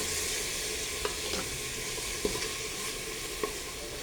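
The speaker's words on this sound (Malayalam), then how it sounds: "ഇതെല്ലാം കൂടി നമുക്ക് ഒന്നിച്ചിട്ട് വഴറ്റിയെടുക്കാം." Garlic, ginger and green chillies sauté in a hot pan with a steady, close sizzle, broken by a few soft stirring knocks of a spoon against the pan.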